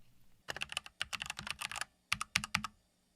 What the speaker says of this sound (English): That is just such a fantastic keyboard